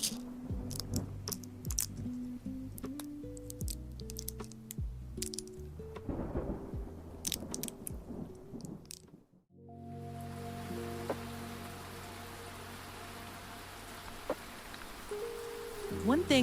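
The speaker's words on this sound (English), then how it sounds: "Well, there is the thunder. We know that it's raining" Thunder rumbles under steady rain on a cozy rainy day, a low drawn-out roll building after a brief hush, with rain noise continuing throughout and some tonal sounds beforehand.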